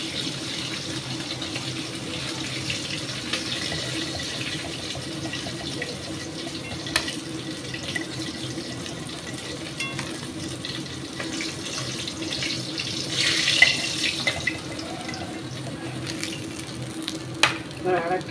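Tilapia fish frying in oil produces a continuous close sizzle and crackle lasting throughout, with occasional sharper pops and spatters and no talking.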